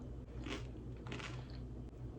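A hot, freshly baked Cadbury chocolate egg is bitten into, giving two or three faint, brittle crunches close to the mic over a low steady hum.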